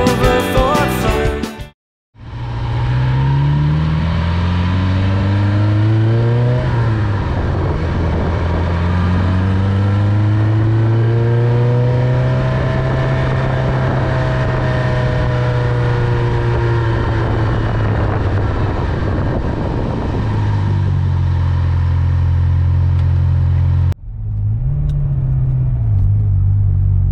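Car engine loudly revving while driving, pitch climbing and falling through long steady pulls and gear changes, close and dominant, preceded by a brief cutout and ending with a quieter idle.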